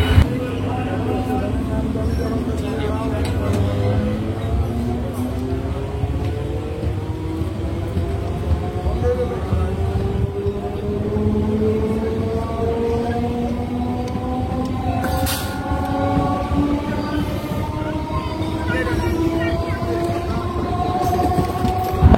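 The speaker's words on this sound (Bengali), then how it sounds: "একদম সঠিক সময়ে সিমলাগড় থেকে আমাদের ট্রেন ছেড়ে দিয়েছে।" A local train pulls away from Simlagarh station on the Bandel–Barddhaman line in rural Hooghly, its steady rolling rumble and rising motor whine continuous throughout, close and fairly loud with no talk over it.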